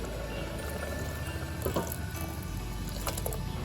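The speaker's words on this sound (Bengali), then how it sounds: "এবার পাশের ফ্লেমে আমি একটু গরম জল বসিয়েছি, পরিমাণ মতো গরম জল দেব।" Hot water poured into a pot of split black lentil dal, a steady close wash of flowing liquid throughout with a few louder splashy bursts near the end.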